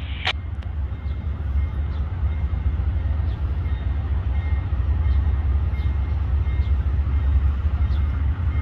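Amtrak passenger train passing through El Paso, Texas, a steady loud low rumble of rolling cars that holds evenly throughout, with faint repeated clicks of wheels over rail joints.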